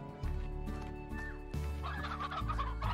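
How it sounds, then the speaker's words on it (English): Stone hens in the Slime Rancher video game cluck and gobble in repeated bursts over a steady bed of game music and ambience, the fowl calls fairly close and prominent throughout. "so it was stone hens, wasn't it?"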